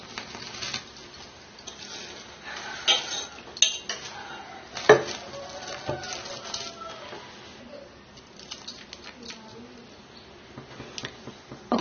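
A spoon scrapes and clinks against a pot as soaked rice is stirred into boiling milk for paramannam, with irregular taps and knocks rising over a soft bubbling background, close and moderately quiet.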